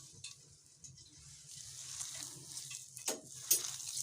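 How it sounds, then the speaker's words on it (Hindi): A potato seekh kabab mixture being stirred with added oil makes faint, soft squelching and mixing sounds, with a few light taps against the bowl and a low background hum. "मिक्स करेंगे इसको अच्छे से"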